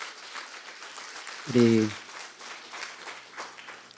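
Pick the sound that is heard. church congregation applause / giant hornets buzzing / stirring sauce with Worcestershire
church congregation applause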